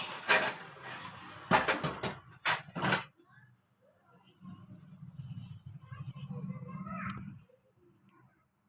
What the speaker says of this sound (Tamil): பாத்திரம் விளக்கிட்டு இருக்கேன்.